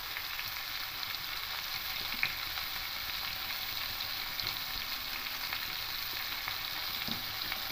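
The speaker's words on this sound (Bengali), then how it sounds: "ঝিঙেগুলো দিয়ে একটু উল্টে পাল্টে নেব" Ridge gourd pieces fry and get turned over in a hot pan, a steady close sizzle with soft scraping stirs running throughout, no voices.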